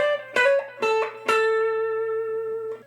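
A clean electric guitar lick for a country solo, played without string bends: three quick plucked notes in succession, the last ringing out and sustaining, fairly close and clear with no talking.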